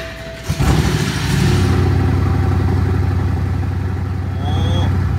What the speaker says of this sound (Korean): 자 이제 진짜 시동을 걸어 볼게요.